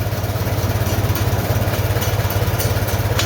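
Farmall 450 LP tractor running on LP gas with its governor spring just corrected, a steady close idle with an even low-pitched chug throughout and no talking.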